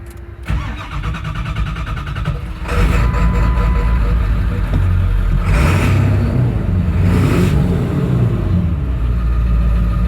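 A 2002 Ford F-250 crew cab 4x4 with a 7.3L diesel, six-speed and dual exhaust starts up after a moment of quiet, then settles into a loud, steady diesel clatter at idle that carries on to the end, with a few slight swells.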